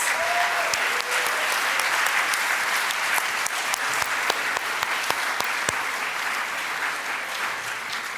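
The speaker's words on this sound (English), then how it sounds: "I would again like to have a round of applause to congratulate all of these amazing individuals for their awards" Sustained applause from an audience at a 2015 honors and awards ceremony, a broad steady clapping texture with sharp individual claps standing out, running for about eight seconds and fading slightly toward the end.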